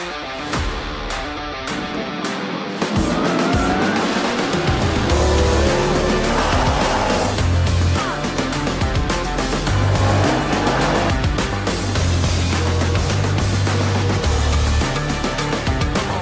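Rallycross cars race hard at a circuit, engines roaring loud and close with revving, gear changes and tire noise, a sustained blare that follows a quieter, choppier opening.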